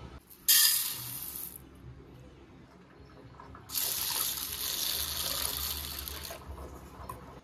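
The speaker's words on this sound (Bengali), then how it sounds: "এইটাকে ভালো করে ধুয়ে জলে ভিজিয়ে নেব" Red lentils washed under running tap water in a bowl, two bursts of close splashing flow with gentle swishing in between, fairly loud and without talk.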